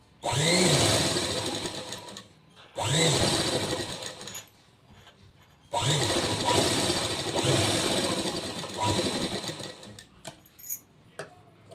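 Sewing machine stitching a strip onto a garment neckline, running in three sustained bursts of rapid mechanical whirring with short pauses between, close and loud.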